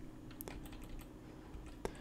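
A few computer keyboard keystrokes during a Pro Tools editing session, two distinct clicks separated by quiet, close and fairly soft with no talking.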